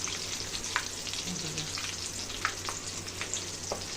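Vada sizzle in hot oil as they deep-fry, a steady close crackle with scattered pops and faint stirring.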